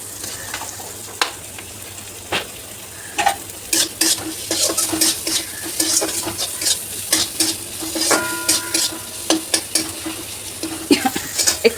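A flour and potato snack fries with sesame seeds and coriander, stirred steadily in a pan. A continuous sizzle runs under repeated sharp scrapes and clinks of the utensil against the metal.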